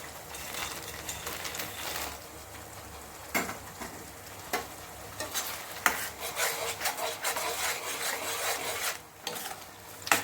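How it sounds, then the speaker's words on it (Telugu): Makhana fox nuts tipped into a pan and stirred, producing scraping, rubbing and light rattling knocks over a soft sizzle, close by with irregular bursts and no talk. "ఇప్పుడైతే మకానీ వేసేస్తాను."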